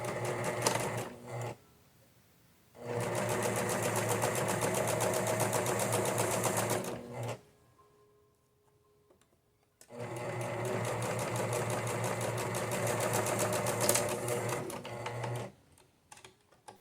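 A sewing machine stitches the shoulder seams of a dress in two long, loud, close runs of rapid mechanical whirring, separated by a quiet pause, with a brief burst at the start and backstitching at the ends.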